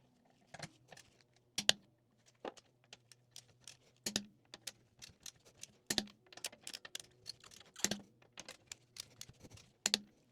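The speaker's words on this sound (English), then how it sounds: "Now we're going to torque them to 96 foot-pounds." A torque wrench tightens wheel lug nuts on a Mercedes C63s fitted with BMW G80 M3 wheels, giving a run of sharp, irregular clicks up close with softer ticks between them.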